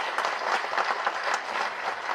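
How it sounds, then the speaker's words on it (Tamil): Sustained applause from an audience fills an auditorium at a movie trailer launch, a dense, even wash of clapping from many hands that holds steady throughout. "இந்த நேரத்தில் கருணா சாருக்கு நல்ல மிகப்பெரிய கரகோஷம் கொடுங்க. இந்த அரங்கமே அதிர மாதிரி கொடுங்க."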